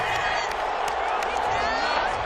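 The stadium crowd in Madden NFL 21 reacts angrily to a penalty call during a Giants–Cowboys Thanksgiving game, a sustained roar of jeers and whistles that stays loud and steady throughout.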